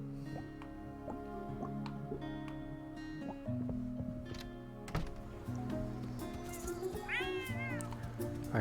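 A cat meows in the video game Chicory: A Colorful Tale, a rising, wavering cry near the end, preceded by soft dripping sounds over a steady musical background.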